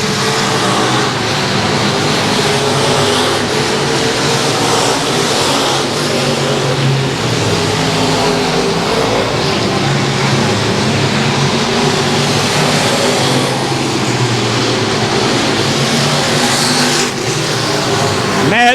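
Stock cars racing around Battleground Speedway in the closing laps, engines roaring loudly and continuously throughout with a dense, steady drone, while a commentator talks over the action.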